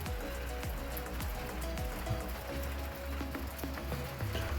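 Slow, steady soaking rain falls on a garden, a dense even patter of drops on surfaces with occasional louder nearby drips, continuous and close, with no talking.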